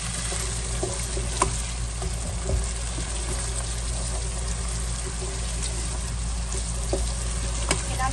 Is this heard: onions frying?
yes